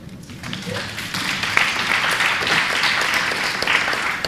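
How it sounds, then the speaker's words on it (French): Hall audience applauding at a French public-policy forum, a dense steady wash of clapping that builds after the first half second and holds fairly loud throughout, with a faint voice underneath at the start. "Toute la salle vous applaudit."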